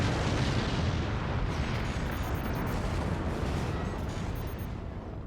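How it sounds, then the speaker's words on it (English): Cannon fire in a video game strikes foundations and mines, giving a dense, rumbling barrage of booms and crumbling impacts that holds steady throughout. "those are some gorgeous cannon shots. Two of them directly to the foundations, taking out a pair of mines"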